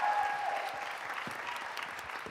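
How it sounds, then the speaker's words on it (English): Audience applause for a startup founder's pitch at a competition, a soft, fairly distant wash of steady clapping from a crowd that tapers slightly, with a faint tone at the start. "Give her a round of applause."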